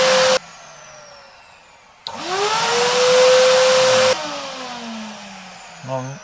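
A vacuum cleaner powered by a portable power station switches on and off several times, each start a sudden loud whine with a rising motor pitch, running steadily for a couple of seconds before cutting out.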